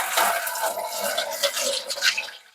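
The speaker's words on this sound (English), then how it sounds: "let's put some water in our canner" Water pouring and splashing into an All-American 930 pressure canner, a close, bubbly gurgling stream that fluctuates for a couple of seconds before tapering off.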